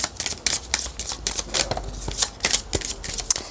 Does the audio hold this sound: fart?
no